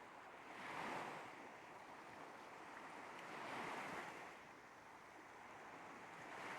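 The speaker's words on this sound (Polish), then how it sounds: "miękko toczące się fale." Gently rolling ocean waves surge and recede in slow, soft swells, two broad washes of surf rising and fading against a constant faint wind-like hiss.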